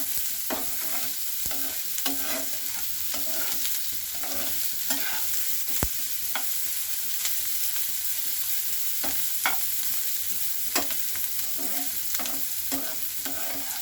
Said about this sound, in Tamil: இந்த ஆயிலில் எல்லா இன்க்ரீடியண்ட்டும் ஃப்ரை ஆகுது